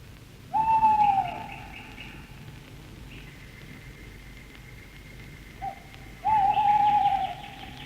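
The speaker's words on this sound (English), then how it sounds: "Now, from this, I want a fairly continuous owl hoot." An owl hoots on a vintage demonstration tape recording, two loud, clear, drawn-out hoots separated by a quieter stretch, with a faint brief call just before the second.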